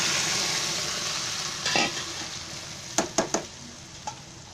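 Fried onion sizzling in a pan as pre-cooked tomato, potato and peas are added for homemade pav bhaji, a steady frying hiss that softens, followed by a soft thump and several sharp clacks of a spatula stirring.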